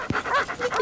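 Dogs panting quickly in short breathy bursts with a brief whimper near the start, close and fairly loud, no talk.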